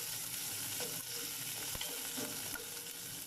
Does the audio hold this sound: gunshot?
no